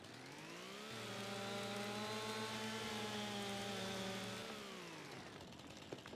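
Chainsaw in the video game Farming Simulator 25, a sustained buzzing engine drone that ramps up, holds steady for several seconds, then drops away, heard alone and fairly quiet.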